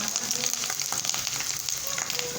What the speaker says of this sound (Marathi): मोहरी झाल्यानंतर लसण जिरे कढीपत्ता